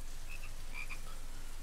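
Frog croaking in the horror video game Escape the Ayuwoki, a couple of short high croaks over a steady low ambient hum, close and alone.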